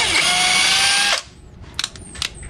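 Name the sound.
Keelat 4-in-1 portable power tool running in screwdriver mode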